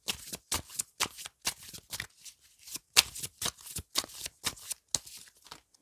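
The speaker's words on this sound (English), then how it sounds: "One more card about their past life." Tarot cards being shuffled in a quick series of papery riffles and slaps with short gaps between them, close and crisp, with no voices.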